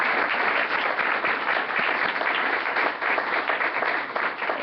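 An audience applauds the candidates at a Brisbane City Council candidate forum, with dense, steady clapping from many hands in a hall that is sustained and fairly loud for the whole stretch.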